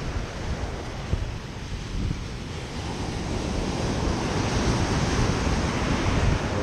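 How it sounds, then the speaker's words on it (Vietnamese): Rough sea on Nha Trang beach after a typhoon, with high waves crashing in a constant loud roar and strong wind buffeting the microphone, building slightly in intensity throughout. "biển Nha Trang cũng bị ảnh hưởng, nó biển động sóng rất là cao"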